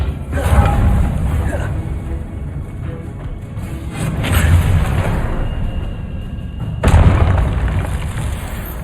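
Confringo spell blasts in the Hogwarts Legacy video game, booming fiery bursts over a dense rumbling battle din, with a sharp new explosion late in the clip.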